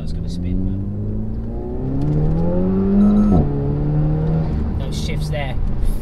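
A Renault Megane RS accelerates hard in second gear with its wheels spinning, the engine note rising steadily, then dipping briefly before climbing again, loud and close throughout.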